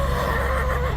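A horse whinnies steadily at close range while being saved from rising floodwaters on a flooded farm, its cry sustained and loud across the whole moment with no talking.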